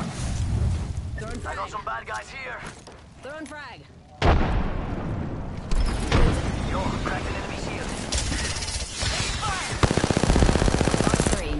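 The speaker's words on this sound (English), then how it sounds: "They're shooting at me?" Enemy squad gunfire in a video game rattles in dense bursts of machine-gun and rifle shots, with booming impacts, loud and continuous across the clip, mixed with voices and game sounds and growing heavier toward the end.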